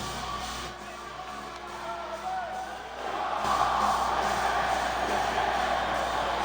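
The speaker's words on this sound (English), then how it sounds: "Of course, the crowd fucking loves him." A crowd cheers for a wrestler in a wrestling video game, Rob Van Dam as ECW World Heavyweight Champion, a faint distant roar that swells and grows louder partway through.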